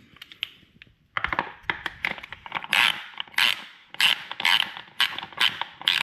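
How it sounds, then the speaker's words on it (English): A ratchet with an 8mm socket works small bolts loose on a Daytona 675R motorcycle during a chain replacement: quick clicking bursts and creaks in irregular clusters, close and fairly quiet. "So for these tiny bolts here, 1 and 2, I'm using a 8mm socket."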